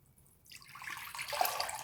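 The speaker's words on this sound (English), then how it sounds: "we're just going to drain this rice and then add it to the boiling water" Soaked rice drained and tipped into a pot of boiling water for Indian lemon rice, a rising watery pour and splash that swells from near silence to a steady rush.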